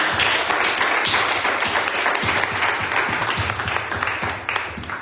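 A church congregation claps along to a hymn at a Sunday service, a steady rhythmic run of hand claps with thumping beats beneath, filling the whole stretch over a dense background of voices and music.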